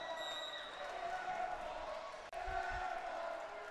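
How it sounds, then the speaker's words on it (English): Basketball game crowd at an OSAA 3A state tournament reacting to an air ball, a steady broad murmur of the gym crowd with a brief dropout and low thumps near the end. "you can hear the crowd letting her know it"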